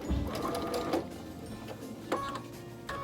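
A sewing machine stitches a wagon wheel quilt block, its motor whirring steadily through the short stretch with a few soft clicks and bumps on top.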